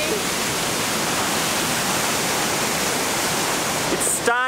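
A waterfall at the Devil's Cauldron near Baños, Ecuador, roars as a loud, steady, close wash of rushing water, with a brief voice at the very end.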